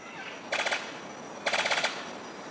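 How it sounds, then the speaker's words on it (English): A sicklebill bird of paradise gives its courtship song, two short rapid rattling bursts that sound like machine-gun fire. Both are fairly faint and set apart by about a second, with no one speaking. "His courtship song sounds like a machine gun."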